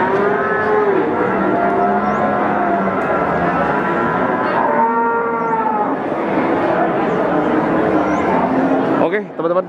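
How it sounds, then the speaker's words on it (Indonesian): Cattle at a crowded, muddy cattle market, with loud overlapping moos and long lowing calls following one another over a steady hubbub of market noise and voices. "Situasi dan kondisi dari pasar sapi Widosari. Pasarnya sangat padat."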